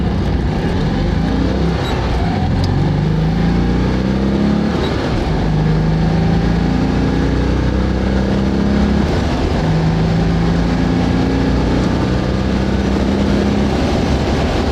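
A Citroen 2CV engine accelerating down a hill, its note climbing repeatedly in rising sweeps as it winds up through the revs, loud and close, steady throughout with no talking.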